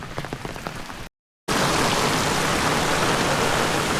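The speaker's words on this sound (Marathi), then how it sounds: "मंडळी पाऊस बघा जोरात लागतोय" Heavy monsoon rain pours in rural Konkan as a dense, steady roar close by, preceded by a brief burst of pattering and a moment of silence.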